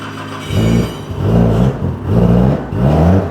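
An engine on an in-development electric throttle setup at the Japanese tuner shop TRUST/GReddy revs four times in quick succession, each loud, close rise-and-fall burst separated by short idle dips.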